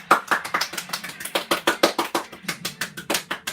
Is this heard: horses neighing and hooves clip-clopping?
no